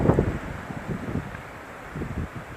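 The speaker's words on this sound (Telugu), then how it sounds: "గాలి కూడా విపరీతంగా వీస్తుంది." Strong wind blowing across a hillside near an apple orchard, with gusty, fairly faint rushing and buffeting against the microphone in short surges.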